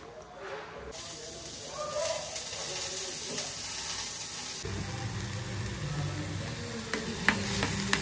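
Oil frying with cumin, mustard seeds, garlic and onion in a home kitchen, a steady close sizzle and hiss with stirring scrapes and a few sharp clinks toward the end.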